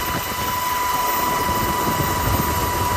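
Rescue helicopter hovering off the coast near a cultural village in Ji'an Township as firefighters are lowered to pull stranded paddleboarders from the sea: a loud, steady rotor and engine roar filling the scene without a break, with no voices.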